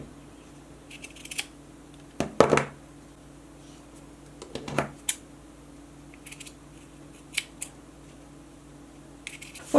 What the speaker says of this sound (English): I'm going to just go through all the cord that I want for this project, and I'm going to cut them into very small pieces